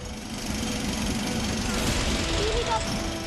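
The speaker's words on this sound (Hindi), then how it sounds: "हटाने के लिए ड्रिल और कटर का इस्तेमाल किया।" A drill and cutter hammer and grind at a temple being demolished, a steady loud rattling din with people talking underneath throughout.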